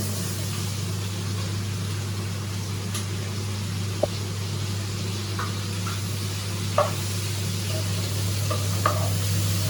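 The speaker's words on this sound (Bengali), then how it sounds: "এই তেলের মধ্যে আমি পেঁয়াজটা দিয়ে দেবো" A steady sizzle of onions frying in hot oil, with a low hum and occasional light clinks of stirring.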